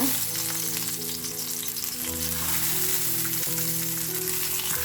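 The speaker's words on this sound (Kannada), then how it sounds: "ಫ್ಲೇಮನ್ನು ಲೋ ಅಲ್ಲಿ ಇಟ್ಕೊಂಡು ನಾವು ಕಟ್ ಮಾಡ್ಕೊಂಡಿರುವಂಥ ಟೊಮೆಟೊನ ಇದ್ರ ಒಳಗಡೆ ಇಟ್ಕೊಳ್ಳೋಣ" Halved tomatoes fry in oil in a pan over a low flame, giving a steady close sizzle and crackle with a faint hum in the background.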